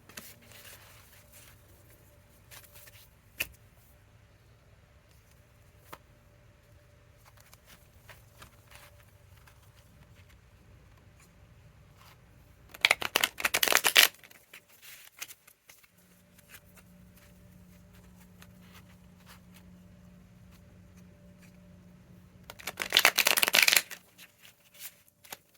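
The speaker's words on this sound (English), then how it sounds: "do a little shuffling" Two short bursts of tarot cards being shuffled, crisp riffling rattles about ten seconds apart, in an otherwise quiet room with a faint low hum.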